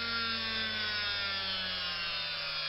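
A small power drill bores into the wheel posts of a Corgi Chevrolet Impala diecast model car, giving a steady, close, high-pitched whine with a buzzing tone that holds constant throughout.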